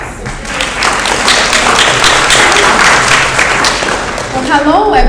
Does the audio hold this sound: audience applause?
yes